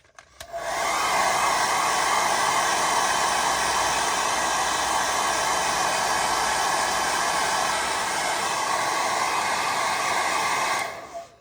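A heat gun blows hot air steadily over a decal during solvent-less application, a loud, constant broadband rushing hiss that runs unbroken for about ten seconds before cutting off.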